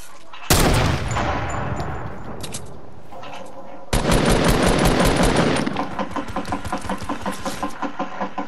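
Video game gunfire: a loud, abrupt blast that rings and fades, then a second heavy volley and a run of rapid, evenly spaced automatic shots.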